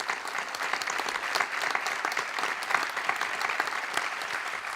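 Audience at the closing session of a Catalan-language congress of physicians and biologists applauds in a sustained, dense burst of clapping, even and fairly loud from start to end.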